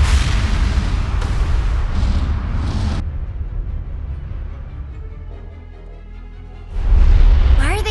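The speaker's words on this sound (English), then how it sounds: "Why are they shooting?" Gunfire in the video game Broken Age, dense rattling bursts of shooting over a rumbling low backdrop, easing off midway before a loud renewed volley returns near the end, with a voice speaking briefly.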